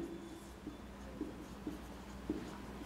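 Chalk or marker strokes on a board during a biology lecture give a handful of faint, short scratching taps at irregular intervals over quiet room tone.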